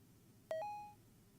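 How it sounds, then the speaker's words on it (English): Electronic beep from a transceiver call in a video game, a short tone followed at once by a second, lower sustained tone that fades over about half a second against a quiet background. "Beep."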